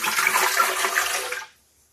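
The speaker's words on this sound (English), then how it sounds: "The first thing I'm going to do is pour in the water." Water pours steadily into a blender jar for about a second and a half as a broad, close splashing rush, then stops abruptly, leaving near silence.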